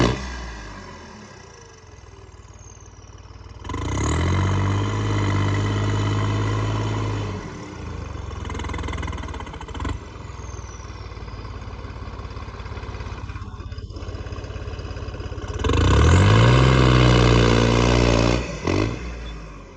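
Toy-like bulldozer engine, new, growling and roaring in loud bursts that build and fade over several seconds, with a steady idling rumble in between; no speech.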